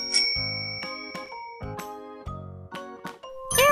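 Bright bell-like dings and tinkles from a bicycle bell in a children's vehicle-learning piece, several short rings spaced through the clip with harmonic tones, the last burst busier and louder.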